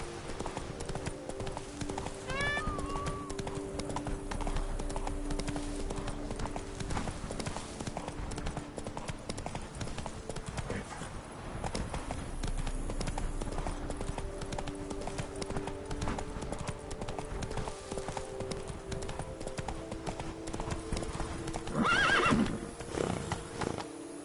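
A horse gallops and neighs in the video game The Witcher 3, steady rapid hoofbeats running throughout under a constant background bed, with a couple of whinnies along the way and no talking.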